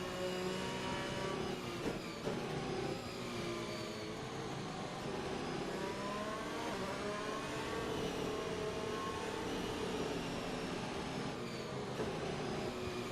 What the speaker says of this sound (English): But our car does not sound good.